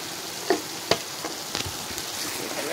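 Spices with ground garam masala fry in hot oil in a soft steady sizzle, close by, with a few sharp pops and crackles from a stirring spoon.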